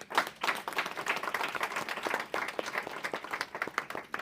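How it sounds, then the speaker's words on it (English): Audience applause at a high-level roundtable event: dense, steady clapping from a large crowd filling the whole stretch at moderate loudness, with no voices over it. "I think a big round of applause for him."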